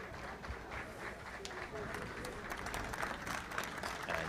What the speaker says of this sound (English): the applause that you can hear in the background is from the Argentinian team